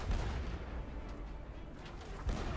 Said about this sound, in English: Fire the right cannons!